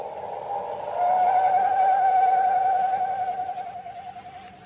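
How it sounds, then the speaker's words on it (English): A single long, mournful owl screech from a 1939 radio adventure serial, a wavering high whistle-like call that swells, holds steadily for several seconds, then trembles and fades, loud and alone. "the mournful screech of the owl had a familiar sound to Chuck"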